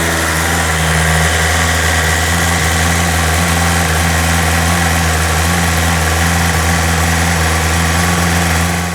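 A BMW M 1000 RR motorcycle engine idles steadily and loudly up close, a constant low rumble with a droning hum and no revving.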